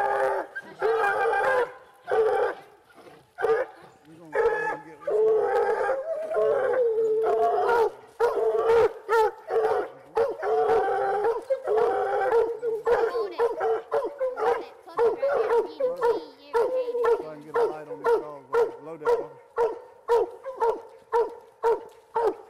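Walker coonhounds bay and howl continuously during a night coon hunt by a river, loud and close, with rhythmic chopping barks and long drawn howls overlapping throughout.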